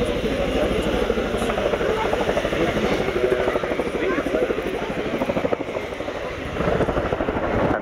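Chinook helicopter flying at a Navy airshow, its heavy rapid rotor chop loud and continuous throughout, with a commentator's voice talking over the noise.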